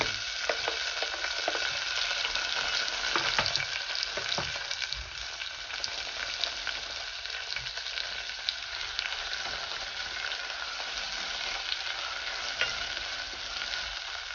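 Onions frying in a pan for crispy pork sinigang, a steady sizzle running throughout with occasional scrapes from stirring, close and fairly loud with no talking.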